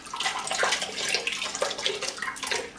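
Vegetable stock poured through a strainer, a steady broadband splashing and trickling of liquid lasting a few seconds, fairly close and alone with no talk.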